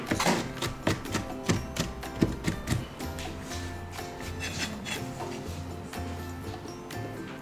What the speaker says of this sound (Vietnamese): Bây giờ thì mình sẽ băm nhỏ miến với cả mộc nhĩ